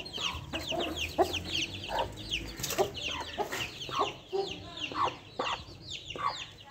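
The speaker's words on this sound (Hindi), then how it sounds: "Very angry hens." Aseel hens on a farm cluck and squawk agitatedly in repeated bursts, fairly close and moderately loud, with overlapping calls and no clear talking.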